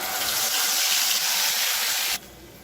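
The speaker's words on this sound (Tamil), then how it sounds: "இப்போ மிக்சியில் இருந்து தண்ணி கொஞ்சமாக சேர்க்குறேன்." Water pours steadily from a mixer jar into a pan of egg gravy masala for about two seconds, a close, continuous splashing gush that stops abruptly.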